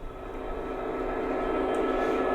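A steady diesel engine drone from a digital sound model Class 66 locomotive hums continuously with a slight rise in level as the model moves.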